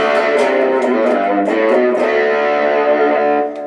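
Electric guitar played through a Carl Martin overdrive pedal set for a crunchy, mildly broken-up tone at lower volume, a few sustained distorted chords ringing out close and clear before fading at the end.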